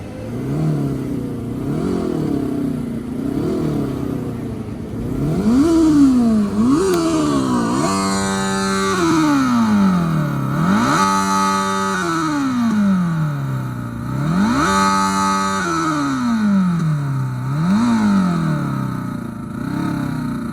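A Fly E-Bike RZ electric motorcycle revs repeatedly under throttle, its whine climbing and falling in steady waves up close, loud and unaccompanied by talk.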